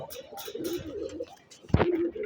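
Pigeons in a rooftop loft cooing softly in low, rolling murmurs, with a sharper flutter-like sound near the end; no voices.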